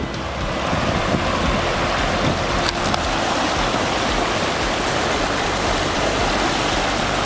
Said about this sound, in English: Well, I found the waterfall.